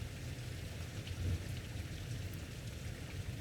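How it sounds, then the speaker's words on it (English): Heavy rain pours steadily, a dense, even hiss of drops drumming on surfaces with a low rumble beneath, constant throughout with no voices. "the rain is so hard that"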